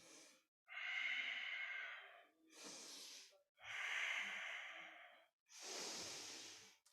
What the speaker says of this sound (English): with long, deep breathing